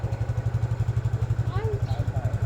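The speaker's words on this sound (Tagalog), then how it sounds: "ayan itong motor." A motorcycle idles nearby with a fast, even engine putter, and people talk briefly over it.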